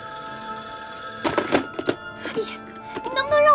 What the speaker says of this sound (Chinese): 把电话先接了呀